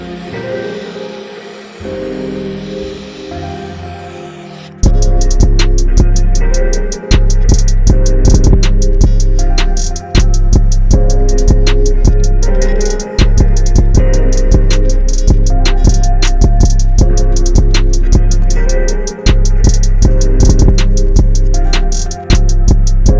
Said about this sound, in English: Gonna weld that up and be done.